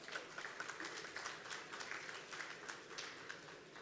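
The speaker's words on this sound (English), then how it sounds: "So big round of applause for Farhana." An audience at a business conference session on influencer marketing gives a round of applause, heard as soft, distant, steady clapping without talking.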